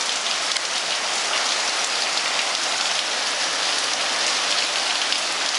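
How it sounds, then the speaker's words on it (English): Heavy rain pours down in a dense, constant hiss of drops hitting surfaces, loud and close, steady throughout with no voices. "bucketing down raining today."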